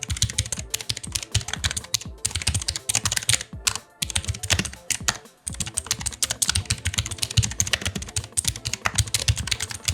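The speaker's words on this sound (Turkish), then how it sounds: "Evet, Blue Switch mekanik klavyemizin sesi duyduğunuz gibi." Fast typing on a Hawk gaming keyboard with Blue Switch mechanical keys, a dense stream of loud, crisp clicks recorded close up, broken by a few short pauses.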